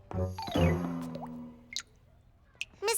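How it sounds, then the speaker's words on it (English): A leaking tap drips water in a cartoon scene, with a few separate squishy plops and splashes spaced out after a fading tonal swell, fairly close and otherwise quiet. "Miss Martin, the tap is leaking."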